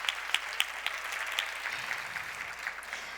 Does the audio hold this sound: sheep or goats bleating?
no